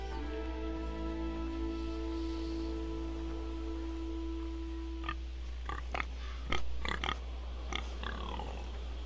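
A pig grunting and oinking in the Game of Thrones Telltale video game, short snorts standing out over a steady low game-music hum, with several sharper squeals clustered toward the end.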